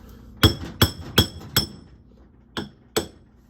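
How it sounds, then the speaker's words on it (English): Six sharp, light hammer taps, four in quick succession and then two more after a pause, close and crisp, during a bearing replacement on a top-load washing machine (Whirlpool Cabrio, Maytag Bravos or Kenmore Elite). "Hammer time. Light taps, not hard."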